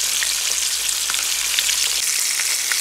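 Koi fish deep frying in hot oil for a Bangladeshi koi mach bhuna, a loud, dense, continuous sizzle with fine crackling close up and steady throughout.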